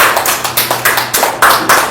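Seminar audience clapping in Mandi, Himachal, a loud close burst of separate claps in an uneven rhythm, about a dozen distinct hits over two seconds with no talk.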